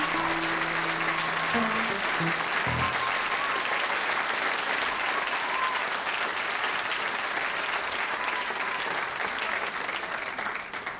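Enthusiastic audience applause for actor Zbigniew Zamachowski at a comedy-music show in 2012, a dense, loud and sustained clapping crowd for the full stretch, with a brief voice at the start.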